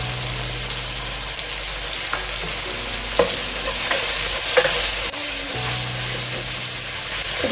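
Ginger, garlic and green chili paste fries with tomato for chicken biryani, giving a loud, steady sizzle broken by several spoon clinks and stirring scrapes.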